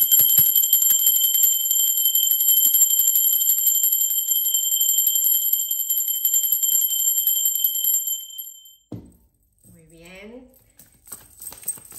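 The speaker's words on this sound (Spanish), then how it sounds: "va campana hasta que Angus aparezca." A sustained high metallic ringing tone with steady overtones, loud and continuous for several seconds, then cutting off as a voice begins speaking.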